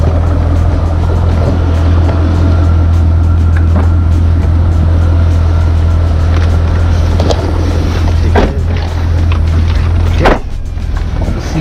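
A supercharged C5 Chevy Corvette drives on a freezing day, a loud, constant low engine drone with a rushing wash of road and wind noise and no voices.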